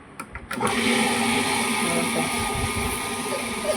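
A wet grinder's stone turns over urad dal for idli batter, a steady loud churning drone with a few knocks at the start, running alone without voices.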